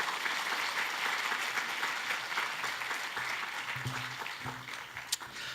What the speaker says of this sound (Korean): 박수로 우리 환영해 주시면 좋겠습니다